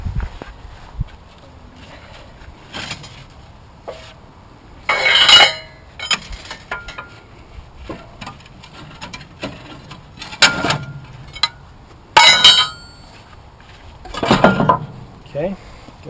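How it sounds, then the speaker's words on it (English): Metal clanks and scrapes as the fork of an old dozer's track adjuster is worked and slid out, with scattered sharp knocks, several loud bursts of grinding metal, and quieter shuffling between them. "So the whole thing slides out."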